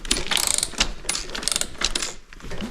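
A ratchet wrench clicks in quick, close bursts while a tire is fitted to a KTM 300 enduro dirt bike, with repeated ratcheting runs separated by short pauses and no talk.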